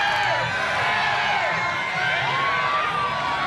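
A crowd at an obstacle-course competition cheers and whoops for a competitor, a loud continuous roar with high shouts rising over it.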